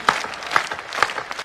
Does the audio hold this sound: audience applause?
yes